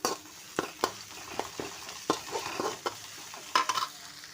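Onion and green chilli sautéing in a pan after garlic and ginger, with repeated sharp stirring scrapes and clinks over a continuous sizzle, close and moderately loud, no voices.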